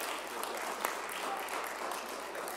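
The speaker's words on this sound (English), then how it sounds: "Let's give all of these teams and committees a round of applause." A church congregation gives sustained applause to its teams and committees during a live worship service, with dense, steady clapping throughout and one sharper clap standing out near the middle.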